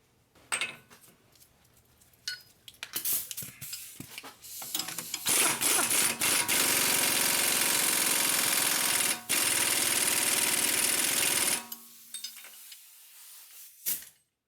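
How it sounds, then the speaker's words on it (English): A tool tightening the drive axle nut on a Nissan Murano during a wheel bearing job, with a long loud continuous mechanical whir and rattle after a few short bursts, then brief clicks as it stops. "So now we're going to tighten the nut for the drive axle."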